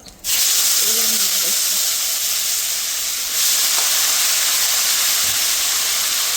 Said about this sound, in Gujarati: તો ચલો આપણે હવે વઘારીશું શાક થોડું જીરું હિંગ હળદર